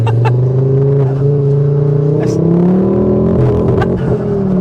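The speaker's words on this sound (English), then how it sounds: "Oh, that dump valve!" A Mk2 Ford Focus RS revs loudly up close, its engine note climbing and falling, punctuated by several sharp dump-valve blow-off hisses and pops spaced a second or two apart.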